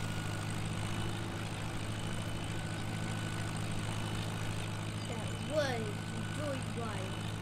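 An open-cockpit tractor engine in Farming Simulator 17 drones steadily at idle, a constant low hum under the whole stretch, with voices talking briefly near the end.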